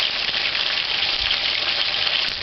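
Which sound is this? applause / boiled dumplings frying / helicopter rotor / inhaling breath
boiled dumplings frying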